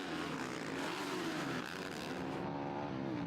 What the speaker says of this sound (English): Just listen to the throttle control here on the hard, slick circuit.